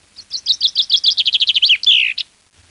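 Common chaffinch song from the Landes population: a crisp, close phrase of rapid repeated notes that speeds into a tighter trill and finishes with a drawn-out descending flourish and a short final note, then quiet.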